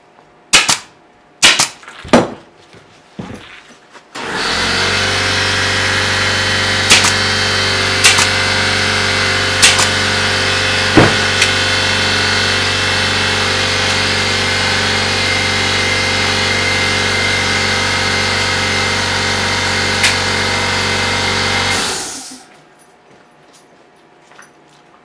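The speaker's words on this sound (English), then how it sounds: "Compressor doesn't care if you're a movie star or not, it will overrun you." An air compressor runs loudly and steadily while a pneumatic stapler fires into dining room seat fabric. Sharp staple clicks come before the motor starts and keep punctuating it throughout until the compressor cuts off.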